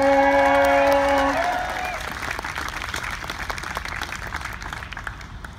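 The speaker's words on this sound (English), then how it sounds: "another round of applause for your four" Crowd applause and cheering for the U.S. Air Force Honor Guard Drill Team, starting over sustained musical tones and continuing as steady clapping that fades slightly.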